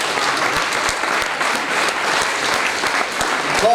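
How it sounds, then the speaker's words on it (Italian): Audience applause at an Alpini choir festival, a dense, loud and even wash of clapping from a large crowd that holds steady throughout. "Grazie, siate generosi,"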